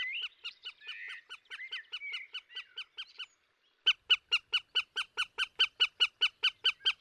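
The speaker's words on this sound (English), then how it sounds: "It is a female goshawk eating prey caught by the male. She is grateful and cries out her thanks." A female goshawk cries while eating prey in the woods: a loud, rapid series of harsh, evenly spaced calls with a brief pause midway, then a steadier run of about a dozen strong cries.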